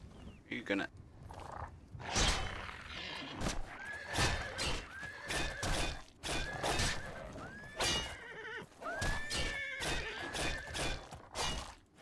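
A cross-country horse whinnies and neighs several times in a row, loud and close, mixed with snorts, hoof movement and a little background voice.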